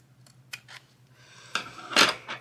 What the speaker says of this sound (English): Then I'm going to cut this sliver off to make it even with the other part